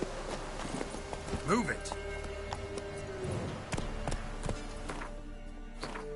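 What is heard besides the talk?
horse hooves clip-clopping in the video game The Witcher 3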